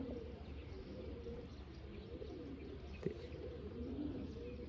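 Pigeons coo softly and steadily in a quiet outdoor loft setting, low murmuring calls overlapping with faint chirps and a single brief tap, no voices present.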